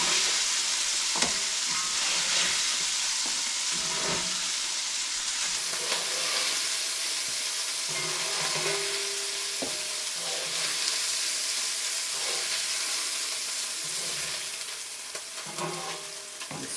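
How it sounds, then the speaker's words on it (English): Chopped meat for carne picada frying in a pan gives a steady, close, dense sizzle that runs throughout with small pops and stirring knocks, easing slightly toward the end. "Sizzling, slowing down as the meat is leaving the pan."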